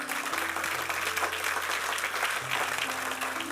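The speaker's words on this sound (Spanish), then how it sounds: "Dale un aplauso al Señor." A church congregation claps for several seconds, a dense continuous round of applause that fills the room at an even level from start to finish.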